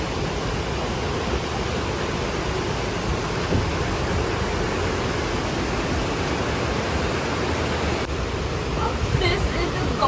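A waterfall in the misty monsoon hills of Coorg, a steady broad rushing roar heard continuously from nearby, with a faint voice near the end.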